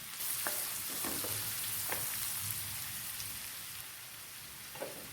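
Chopped onion, curry leaves and green chilli sizzling in hot oil in a pan, a quiet steady crackle with scattered pops and faint stirring scrapes throughout, no talk.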